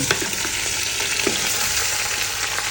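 Pork ribs with garlic and onions frying in a pan, a loud steady sizzle with crackling spatters and occasional stirring scrapes, continuous and close.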